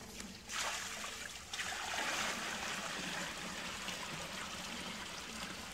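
Water carrying tadpoles pours from a container down a muddy backyard hill, a steady rushing trickle that starts abruptly and runs continuously at close range.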